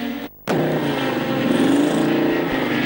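Chevrolet Camaro race car with a 5.3 litre V8 at a 1974 practice session at Mallory Park, engine roaring loud and steady, revving after a brief gap, with other cars on track.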